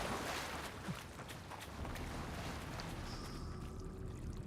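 Splashing water in the fantasy game Avowed as a character wades through a pool, a steady broadband wash of churning, sloshing water with brief footstep-like splashes, close and continuous.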